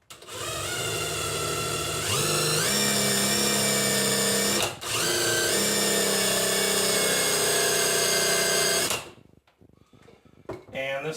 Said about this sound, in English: this Forstner bit is having a hard time going through